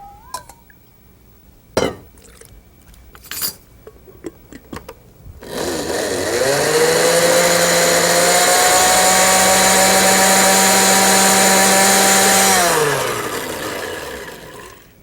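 A blender grinds masala paste with water, first a few short clatters and knocks, then a loud sustained whirring motor that runs steadily for several seconds before winding down.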